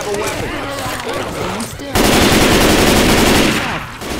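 Gunfire in the Left 4 Dead 2 game: rapid automatic bursts up close, with a rattling stretch of shots that suddenly becomes a dense, louder roar of continuous fire before easing off at the end.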